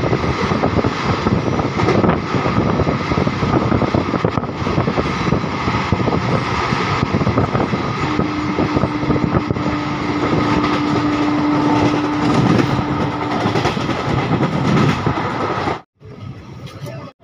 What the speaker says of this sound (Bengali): আমাদের ট্রেন এখন পার করছে শালবনী স্টেশন।